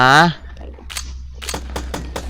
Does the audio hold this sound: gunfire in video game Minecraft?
yes